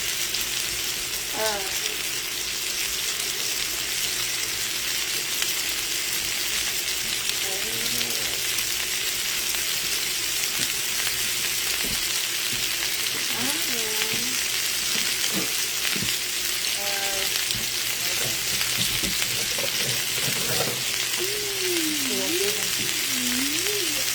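Potatoes frying in bacon grease, a constant dense sizzle and crackle close by, with a voice talking intermittently over it throughout.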